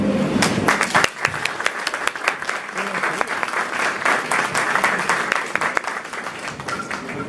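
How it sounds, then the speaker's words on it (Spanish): Audience applause for a speaker after a talk on applications of ionizing radiation, a loud, sustained round of many hands clapping that continues steadily, with a brief dip near the start. "yo lo que les iba a pedir era un aplauso para Jorge, pero ya se lo dieron"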